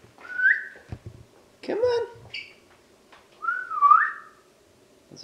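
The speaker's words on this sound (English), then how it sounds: "That's a terrible whistle." A person whistles in bursts to call a dog in a garden, with rising and falling tones, close and fairly loud, between spoken calls.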